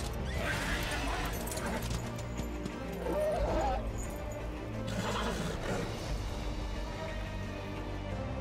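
Horse hooves clip-clop continuously in the Darksiders II video game, with a horse neighing over a dense, loud game soundscape.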